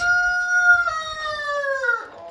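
A single young rooster crows close by, a long bright call that slides downward and trails off, with faint scuffling of chickens underneath.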